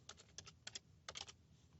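Quiet keystrokes on a computer keyboard tap out in short bursts of two to four presses with brief pauses between, sounding close and crisp with no voices.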